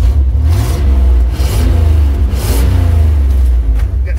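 A revived demolition-derby car engine idling loudly and close, a steady low rumble with a slight uneven lope and small swells in revs, running continuously with no clear talking.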